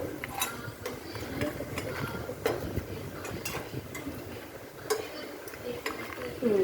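Fried red chilies are scraped and scooped from a pan into a bowl for beetroot pachadi, making repeated close metallic clinks and scrapes of a utensil against cookware in an uneven rhythm, over a steady light background hiss.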